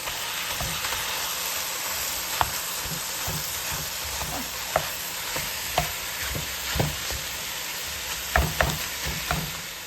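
Ground meat and onions frying in a big pot of chili, a steady loud sizzle with repeated scraping and stirring taps from a utensil breaking up the meat.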